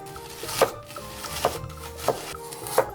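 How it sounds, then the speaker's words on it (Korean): Half an onion being cut with a knife on a wooden board: four crisp chopping thuds at an uneven pace, close and clear, with no talking. "양파 반 개를 자릅니다"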